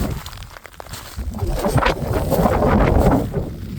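Strong, steady wind gusting near a mountain summit on the GR131 trail in Fuerteventura, a loud broadband roar that swells and stays high, with no voices.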